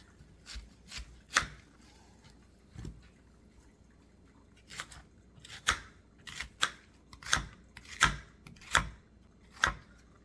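A knife cuts an onion into big long pieces on a cutting board, producing sharp isolated chops spaced irregularly and then coming quicker, close and clear against a quiet kitchen.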